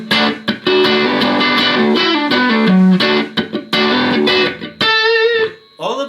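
A distorted electric guitar on its neck pickup plays through a poor-sounding cabinet, loud sustained chords and held notes ringing near and alone, ending in a brief bent note.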